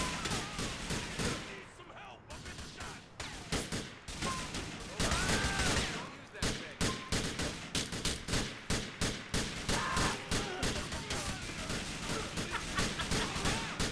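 Rapid, continuous bursts of AK rifle gunfire fill a firefight in GTA IV with the LCPD:FR police mod, dense and sustained throughout with no pauses.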